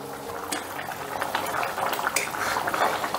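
Shahi paneer gravy bubbling in a pot over a raised gas flame, a close, continuous burble of boiling liquid with faint metallic pot sounds and no talk.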